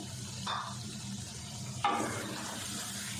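Potatoes and peas frying with spices in a pan for an aloo matar pulao, a steady close sizzle broken by two brief stirring scrapes.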